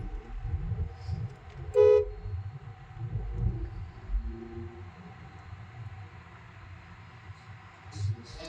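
Busy heavy-vehicle city traffic in Coimbatore with crawling buses, a steady rumble of engines and one loud, short horn toot near the start, plus faint distant honks later.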